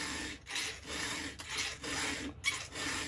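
A hand file rasps across a .404 semi chisel chainsaw chain held in a jig, about five or six close strokes in a steady rhythm, each stroke separated by a short pause.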